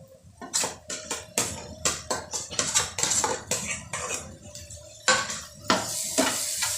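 A spoon scrapes and clanks against a pan as onion, coconut and garlic paste is mixed into a sizzling egg and potato masala, with rapid irregular metallic strokes close up over light frying.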